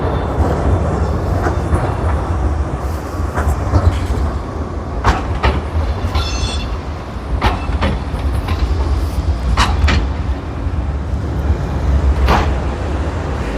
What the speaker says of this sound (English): So there are trams coming very soon